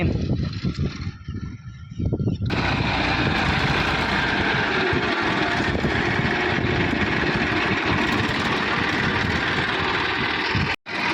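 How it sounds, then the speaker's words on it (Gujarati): A tractor engine chugs steadily and loudly up close, kicking in after a couple of seconds of quieter noise and running with a rough, continuous throb. "અહીંયા રાજુભાઈ વજાડે છે ટ્રેક્ટર"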